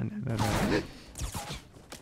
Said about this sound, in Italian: No, no mi sembrano no, spari.